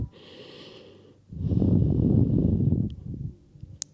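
Slow, deep breathing during a seated yoga forward fold, heard close up: a softer breath at first, then a long, loud, rough exhale lasting a couple of seconds that trails off into quiet.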